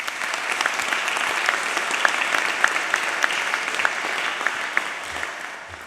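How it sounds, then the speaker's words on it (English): Graduates applauding at a University of Greenwich graduation ceremony, a broad, even roar of many hands clapping that holds steady and then begins to taper off at the end. "So please give yourselves a round of applause."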